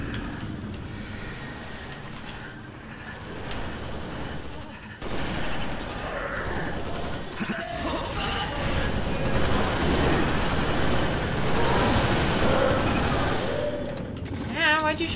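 Rapid gunfire from Halo Reach runs almost continuously through the clip, dense automatic bursts layered over game noise with a short lull near the middle. Players talk over the shooting.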